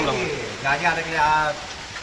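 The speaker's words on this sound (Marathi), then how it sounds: "पावसाचा आणि मोटरीचा असा खूप आवाज येत होता पण नंतर मोटरी बंद झाल्या आणि फक्त पावसाचा तेवढाच मित्रांनो आता आवाज येत आहे" Rain falls steadily in a Maharashtra village after water pumps have shut off, a soft continuous hiss running beneath someone speaking throughout.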